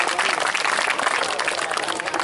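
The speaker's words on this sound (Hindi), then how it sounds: "भरपूर तालियां।" Dense, steady audience applause at a farewell ceremony, many hands clapping together at an even level throughout the short stretch.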